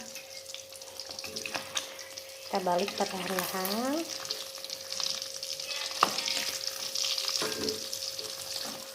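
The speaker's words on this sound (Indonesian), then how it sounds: "Kita goreng dengan api yang sedang ya, api yang kecil, jangan terlalu besar." Fresh fish rubbed with lime frying in oil over a medium-low flame, a steady crackling sizzle throughout, with a voice speaking briefly partway through.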